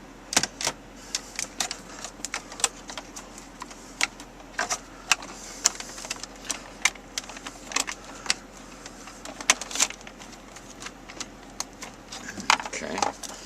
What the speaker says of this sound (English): So we're going to start down here at the very corner and pry this panel out away from the dash.